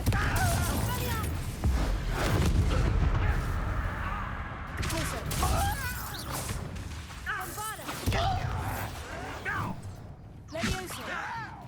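Confringo fire-blast spells exploding in Hogwarts Legacy, several thumping blasts and crashing bursts amid whooshes and combat clatter, with in-game voices talking over the action.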